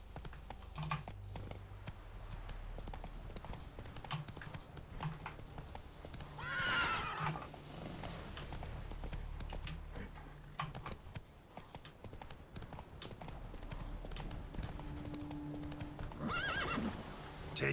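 Horse hooves clip-clop steadily at a gallop in The Witcher 3 video game, with a clear neigh rising around the middle and a brief whinny near the end, all close and fairly loud over a low game-music drone.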